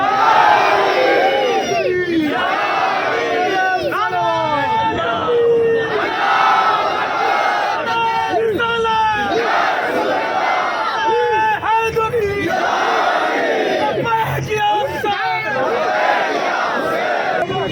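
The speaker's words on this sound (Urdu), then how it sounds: "نعرے حیدری" A large crowd at a Shia religious gathering roars slogans in unison in repeated loud, rhythmic bursts, answering a leader's call throughout.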